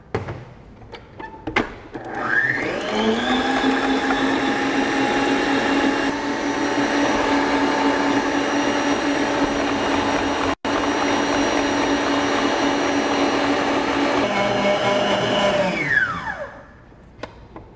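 An electric mixer whipping egg whites for French meringue, a loud steady whirring whine that spins up after a couple of clicks, runs continuously with one brief cut, then winds down.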